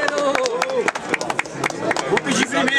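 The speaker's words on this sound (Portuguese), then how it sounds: "palmas aí pra esse round aí" A crowd applauds and cheers after a rap battle round at a Brazilian freestyle event. Dense clapping and shouting voices swell and dip across the moment, up close and lively.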